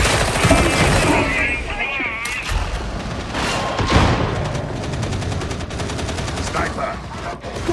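Sniper fire rings out in a video game, sharp shots and booms layered into dense battle noise while players talk over it.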